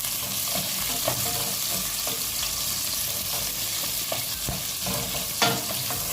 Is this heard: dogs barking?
no